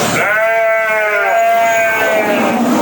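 Sheep bleat on a village livestock farm in a long, loud, wavering call up close, with a second bleat overlapping near the end and little else in the background.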